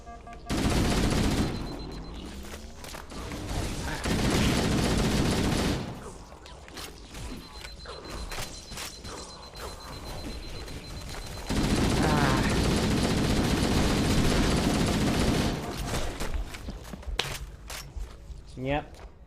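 Gunfire bursts and shotgun blasts ring out in a Halo combat scene, loud dense volleys at the start and again in the middle, with a person talking over the action between and during the shots.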